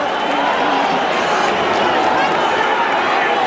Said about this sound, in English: Always difficult to know why a crowd is booing.